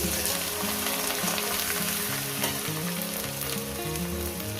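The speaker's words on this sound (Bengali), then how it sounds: "এবার এটাকে মিনিট দুয়েক মিনিট ধরে আমি ভাজবো যাতে রসুনের কাঁচা গন্ধটা যাতে চলে" Onion, green chili and garlic fry in oil in a pan for a tempering, giving a steady, close sizzle that runs unbroken with no talk.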